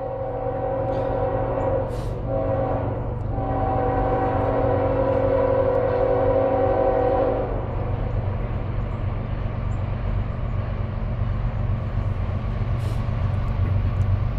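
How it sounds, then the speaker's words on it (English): Norfolk Southern freight train 24X rumbles past in South Plainfield, New Jersey, for a long stretch, steady low roar of wheels and cars, with a couple of brief squeals early on. "first train of the morning"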